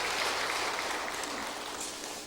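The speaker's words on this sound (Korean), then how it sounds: "크게 박수 해드리겠습니다" Church congregation applauding during a Sunday Christmas-season worship service, a steady broadband clatter of many hands that holds evenly for the whole stretch with no voices over it.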